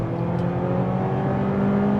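A 2026 Honda CR-V EX-L accelerating hard from a stop: a steady, loud engine drone with a tonal whine, heard from inside the cabin, holding an even level throughout.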